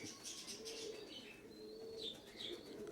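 Soft pigeon coos repeat in a low murmur alongside faint chirps and a brief flutter of wings, steady background with no voices.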